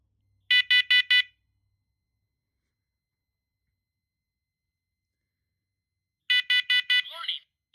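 A First Alert SMCO500V smoke and carbon monoxide alarm sounds two bursts of four sharp, loud beeps separated by silence, with a voice starting just after the second burst.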